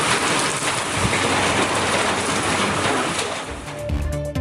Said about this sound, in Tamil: ராசிபுரம், ஹோசூர் உள்ளிட்ட பகுதிகளில் ஆலங்கட்டி மழை.